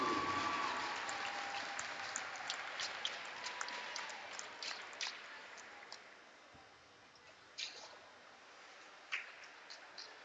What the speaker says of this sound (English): Let's have one more round of applause for the Marblehead High School class of 2022.